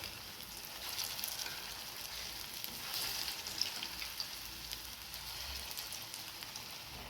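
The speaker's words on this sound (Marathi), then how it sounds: "हे आणखीन शिल्लक राहिलेले हे सुद्धा आपण तळून घेऊया" Vegetable cutlets fry in hot oil on medium heat, making a continuous soft crackling sizzle with scattered pops, fairly quiet and steady throughout, with no voices.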